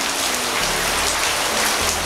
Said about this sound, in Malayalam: നല്ല മഴ പെയ്യുന്നുണ്ട് പുറത്ത്.